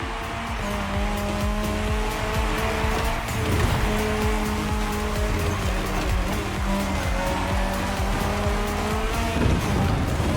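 Rally car racing head-to-head in The Crew Motorfest, engine roaring steadily at high revs with sustained tire squeal and skidding on a mixed dirt course, loud and continuous throughout.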